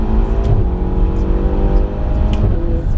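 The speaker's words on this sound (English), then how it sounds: "Let's do the shift. Look how fast that is." A Ferrari GTC4 accelerates hard, its engine giving a loud, close, continuous roar with a quick gear shift that barely breaks the rising drone.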